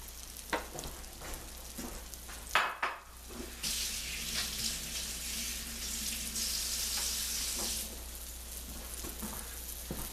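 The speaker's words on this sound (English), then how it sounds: "It'll take a few minutes to brown it on one side" Veal loin chops sizzle and fry steadily in a pan over a moderate flame, with a few clinks of utensils early on, a loud continuous hiss underneath.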